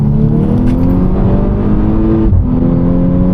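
A Volkswagen Scirocco R engine drones loud and close while driving, holding a steady revving tone that dips briefly as if for a gear change, then climbs again.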